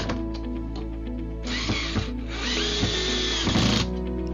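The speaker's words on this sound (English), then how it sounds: "Mount the pullout slides with the two bolts and the two plastic spacers." Power tool, likely a drill or driver, running to fix IKEA Komplement pullout slides with bolts and plastic spacers: a steady whirring burst in the middle stretch over quieter workshop handling, with no talk.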